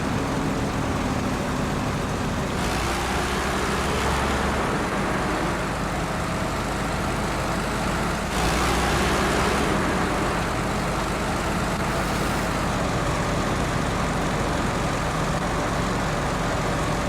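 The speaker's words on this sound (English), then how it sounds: "And you can hear the engine and the turbo winding up." A truck in the SnowRunner video game drives in high gear, its engine and turbo winding up as a steady, moderately loud droning rumble with a few shifts in tone.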